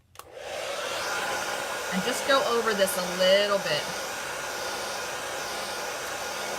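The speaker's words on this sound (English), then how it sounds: "I'm just going to take my hair dryer on cool" A hair dryer on its cool setting blows with a steady, loud whoosh close by while someone talks over it.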